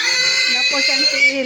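A large pig being prepared for butchering lets out a sustained, shrill squeal in a rainy outdoor setting, loud and close, with people talking over it.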